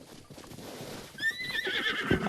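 Horses in The Legend of Zelda: Breath of the Wild whinny loudly and clearly, with a rising neigh and hoof clip-clops following close by, with no talk over them.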